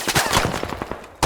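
Close, loud bursts of machine gun fire ring out in the military shooter game Squad, rapid rhythmic shots over about a second before a brief pause and another blast.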